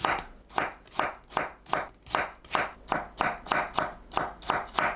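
A knife chops potatoes rhythmically on a cutting board into 0.5 cm pieces, about a dozen crisp, evenly spaced strokes, close and clear with no talking.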